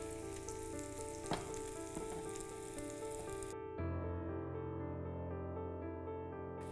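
Paneer steak fries in shallow oil in a pan, giving a steady close sizzle that suddenly drops to a softer, duller bubbling partway through, with no voices.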